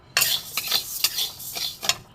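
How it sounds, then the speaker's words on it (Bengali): Moong dal being dry-roasted in a wok over a gas flame, heard as close, intermittent scraping and stirring strokes with light rattling of the lentils against the metal, without any speech. "এখানে আমি মুগ ডালটা ভেজে নেব।"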